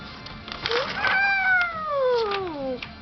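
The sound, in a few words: child imitating a cat meowing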